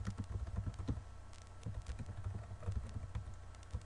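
Computer keyboard typing while registering on a book-review website login page: a steady run of close, quiet key clicks in irregular bursts with no speech.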